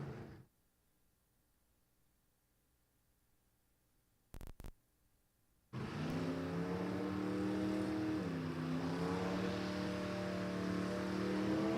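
A drag racing car runs down the dragway track at Empire Dragway, near silence and a brief burst before a loud, sustained engine roar bursts in, its pitch shifting as the car accelerates away.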